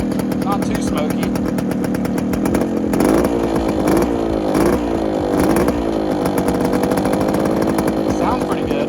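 A 1971 Suzuki TS185 motorcycle engine runs with a bad exhaust leak, its raspy two-stroke note blipping and revving close by in repeated surges over nearly nine seconds.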